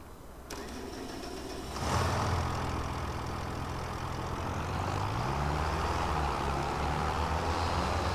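A tractor engine in Farming Simulator 25 turns over and settles into a steady, close mid-pitched rumble, rising slightly in revs before holding an even idle.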